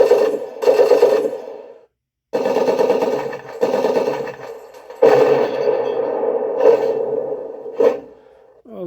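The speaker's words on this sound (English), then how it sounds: "we're going to try some gunfire now. The main gun." Main gun firing effect from a 1/16 RC M4A1 tank's big custom speaker, heard as loud, buzzy, machine-gun-like electronic bursts repeated several times with short gaps between them.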